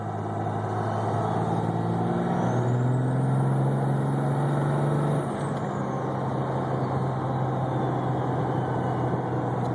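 A diesel truck fitted with twin turbochargers accelerates in third gear, its engine droning steadily while a turbo whistle rises and falls, heard from inside the cab with a constant road rumble.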